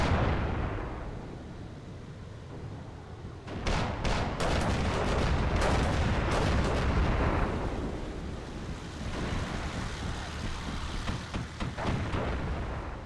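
Flak panzers open fire in the Armored Brigade 2 war game, giving a dense barrage of rapid booming shots and blasts that rolls on for several seconds, then eases and picks up again with scattered bursts.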